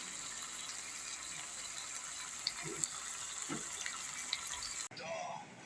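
Hot water is poured into a pot of cooking chicken, giving a quiet, continuous hissing wash with a few faint clinks, then cutting off abruptly near the end.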